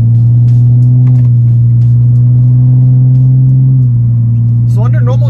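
A tuned BMW E46 engine hums with a low, steady drone during normal driving, dipping slightly in pitch near the end as a voice briefly speaks.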